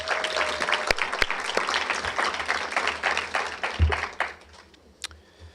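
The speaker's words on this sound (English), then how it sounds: "Can we please give them all a round of applause for all that they do?" Luncheon attendees give a round of applause, many hands clapping briskly and close before thinning out and fading to a few last claps near the end.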